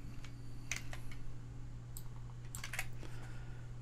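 Fingers type a password on a computer keyboard in short bursts of quiet clicking keystrokes over a steady low hum.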